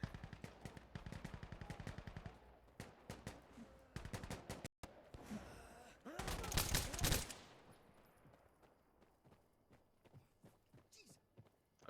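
Gunfire in the shooter game Insurgency Sandstorm: rapid automatic bursts crackle loudly, then a heavy blast around the middle, then sparser distant shots and rattling, with quiet player chatter.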